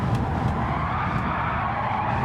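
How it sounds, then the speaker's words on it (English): Tires of a Gr.4 race car squeal continuously through a four-wheel drift at Le Mans in Gran Turismo 7, steady and loud over the engine drone with no pauses. "Look at my amazing four-wheel drift there"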